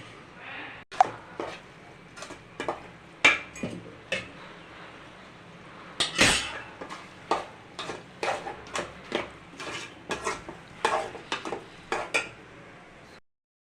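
Gravy is mixed and fried in a pan, heard as a string of sharp clinks and scrapes from a spoon against the pan, irregular and close, over a quiet background.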